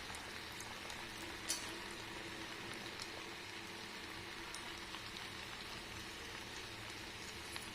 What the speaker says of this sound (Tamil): இப்போ இதை நம்ம ஆயிலில் சேர்த்திக்கலாம். ஆயில் வந்து நல்லா காய்ஞ்சதுக்கு மீடியம் ஃப்ளேமில் வச்சு நம்ம எல்லாத்தையும் கொதித்து எடுத்துக்கலாம்.